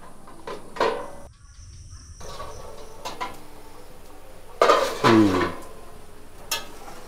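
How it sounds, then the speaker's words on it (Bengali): A metal lid set down over a pot of fish curry with dried mango on a rural kitchen stove, a couple of clattering knocks and a ringing scrape against quiet background. "2-3 মিনিটের জন্য একটু ঢাকা দিয়ে দিচ্ছি।"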